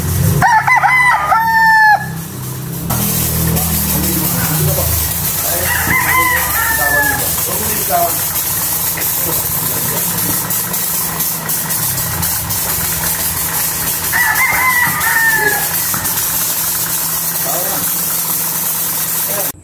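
Roosters crow repeatedly, several loud calls spaced apart, over a constant engine idle hum and background chatter; local breed gamecocks among chickens.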